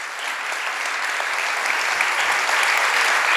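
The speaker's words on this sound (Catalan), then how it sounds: "rebem amb un fort aplaudiment i d'agraïment a Jaume Plensa" Warm applause from the audience at a Reial Cercle Artístic cine-club lecture and debate with Jaume Plensa: steady clapping from many hands that swells slightly and holds for several seconds, with no talking over it.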